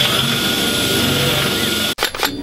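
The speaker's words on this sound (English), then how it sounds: "getting us going with some pilot holes" A power drill boring pilot holes into a Chevrolet C10 truck frame during a C-notch install: a continuous, close, loud whirring grind that cuts off abruptly near the end, followed by a few short bursts.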